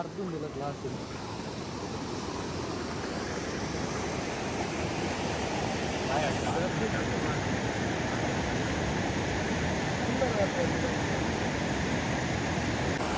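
Hukratte waterfall in full flow, a steady broadband roar of rushing water that holds at an even loudness throughout, with no voices.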